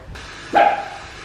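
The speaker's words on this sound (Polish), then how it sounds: "Kto to szczeka w domu?" A single sharp dog bark rings out inside a home, close and fairly loud, over quiet room tone.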